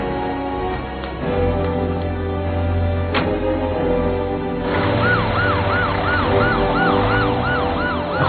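A wailing ambulance siren in an animated show starts midway and cycles up and down loudly over low rumbling traffic noise.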